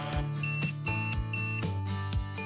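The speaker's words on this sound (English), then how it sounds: "the shade will jog twice and beep 3 times to confirm" A short electronic tone pattern from an AMP motorized shade confirming a setting repeats in quick pulses, with steady beeping and bright harmonic tones running through the whole stretch.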